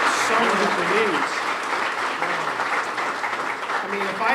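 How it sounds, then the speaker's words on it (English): A crowd at a museum grand opening applauds loudly and steadily for several seconds, with voices talking over the clapping. "And you've got to give Randy a huge, huge applause here."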